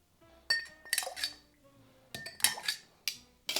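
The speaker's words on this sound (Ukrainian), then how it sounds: "Тепер додаємо лід." Ice cubes clink and rattle into a cocktail glass while a classic Campari drink is built with dry vermouth, in several sharp bursts of chiming glassy clatter separated by brief pauses.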